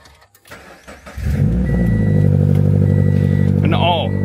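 A rear-wheel-drive sports car with manual clutch and push-button proximity-key ignition cranks and catches, settling into a loud, steady close-up idle with a brief high whine near the end; a voice is heard.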